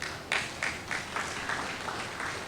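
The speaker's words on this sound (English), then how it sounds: "A round of applause for her." Faint audience clapping at a morning mental health awareness conference, arriving in soft, evenly spaced bursts over a steady room hiss, with no talking.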